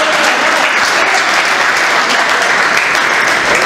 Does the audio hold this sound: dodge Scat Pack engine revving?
no